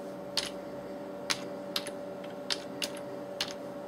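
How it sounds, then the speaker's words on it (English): Sparse, quiet keystrokes tap on a computer keyboard, single clicks spaced out over a steady background hum. "All you do is type it into the text."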